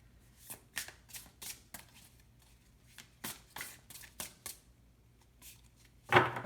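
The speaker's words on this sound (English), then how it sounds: "I'm really awkward tonight with the shuffling." Tarot cards being shuffled close up in repeated riffling bursts with brief pauses between, ending in a sharper slap of cards.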